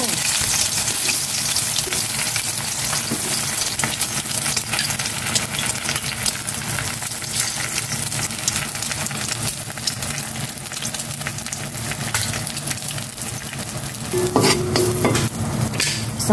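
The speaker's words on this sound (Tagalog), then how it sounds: "Sangag ko naman itong kanin." Cooked rice sizzles and crackles steadily in an oiled pan, being stirred as it fries, with a continuous close hiss and occasional scraping throughout.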